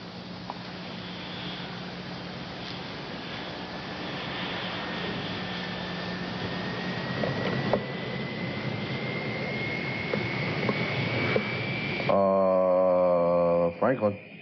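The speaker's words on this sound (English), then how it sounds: "Franklin, there's a phantom jet bearing down on us" A Phantom jet approaches, its engine roar swelling steadily with a rising whine over about twelve seconds, then cut off abruptly by louder music.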